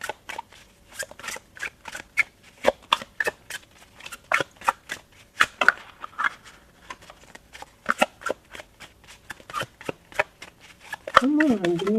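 Close, crisp flicks and riffles of tarot and oracle cards being shuffled in quick irregular bursts, with brief gaps between them and a voice at the very end.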